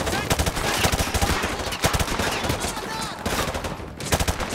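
Sustained automatic machine gun fire in Call of Duty Modern Warfare 2, dense rapid bursts with brief gaps, loud and close throughout, with a voice faintly beneath.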